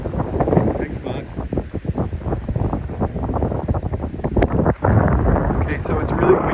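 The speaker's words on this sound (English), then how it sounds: "it's really windy, as you can tell." Strong, cold gusty wind on a walk from Venice to Santa Monica buffets the microphone in a continuous low rumble, with a brief lull near the end before it picks back up.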